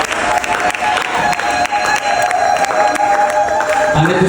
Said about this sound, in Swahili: Mpigieni makofi Junior Ndimbo.